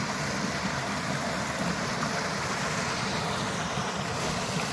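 A steady, broadband rush of flowing water fills the scene, constant and fairly close, with no voices.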